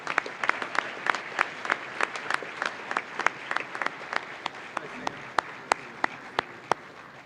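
Scattered audience clapping at a youth awards ceremony, sparse individual hand claps ringing out clearly over a low murmur, thinning toward the end.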